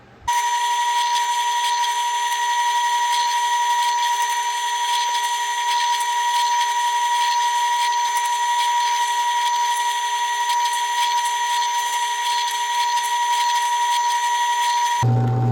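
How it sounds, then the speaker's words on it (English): A drill press hums in a steady high whine as it cuts into wood, running continuously for several seconds after starting abruptly, ending with a thump. "Let's go ahead and drill these out as well."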